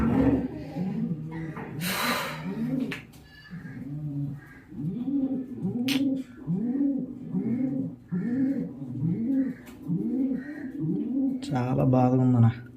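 A dying racing pigeon, after a 350 km race, is heard beside a string of low, rhythmic cooing phrases repeating about a dozen times at close range, broken by a couple of brief rustling bursts.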